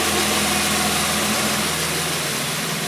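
A Maxi 5 replica moped engine runs loud and close with a steady, buzzing drone that holds fairly even throughout.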